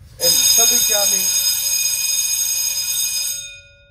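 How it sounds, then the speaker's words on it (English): A school bell rings loudly and continuously for about three seconds, a bright metallic ringing that starts abruptly and then fades out, with a few voices briefly audible at the start. "Before the bell rudely interrupted me"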